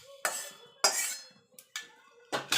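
Utensils and a plate clatter while fried spices are moved off the heat, with five separate sharp clinks and scrapes spaced irregularly, each close and fairly loud against near silence.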